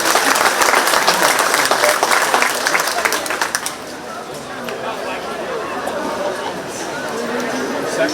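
Audience applause for a county fair queen contestant rings out loud and dense, then thins after a few seconds into scattered claps and murmuring crowd chatter.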